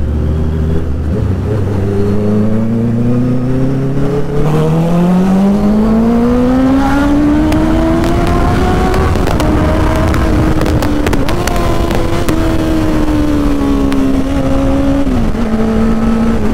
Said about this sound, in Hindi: जो आवाज़ है ना इस बाइक की, माइंड ब्लोइंग